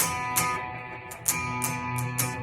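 Electric guitar riff played in upstrokes with a delay effect, rhythmic strums repeating with echoing tails, moderately loud and alone without talk.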